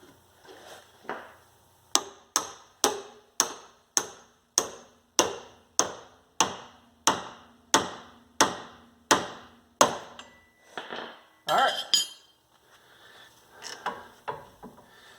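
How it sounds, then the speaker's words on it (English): A big hammer strikes a pickle fork driven into the drag link of a Jeep Cherokee XJ, about fifteen loud metallic blows in a steady rhythm, then a few scattered clanks. "So we're on to our second method, which is a pickle fork and a big hammer."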